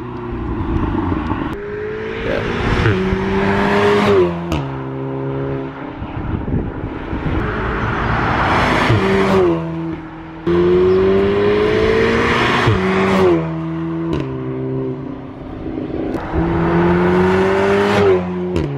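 A VW Golf R with a newly fitted exhaust, driving in sport mode, revs hard through repeated gear changes, each pull rising in pitch before a brief drop, the engine and exhaust roar loud and close throughout.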